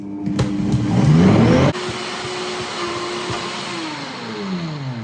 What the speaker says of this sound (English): I nearly killed my blender